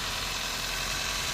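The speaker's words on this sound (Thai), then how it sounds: "ไปดูเครื่องยนต์กันดีกว่า" A Toyota Soluna 1.5 GLi automatic car engine idles with a steady, even rumble and hiss, close and unchanging throughout.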